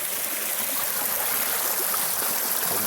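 Creek water flowing over bedrock in Davie County, a continuous close, broadband rushing and babbling with no break.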